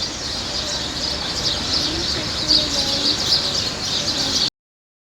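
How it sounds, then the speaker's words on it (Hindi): Many small birds gathered in a bush at dawn chirp and coo in a dense, continuous chorus, with bright high twittering layered over a steady background hum throughout. "तो हमने देखा यहाँ पर चिड़िया थी बहुत सारी एक झाड़ पे, और वो इतनी आवाज़ करी कि आप खुद ही सुन सकते हो।"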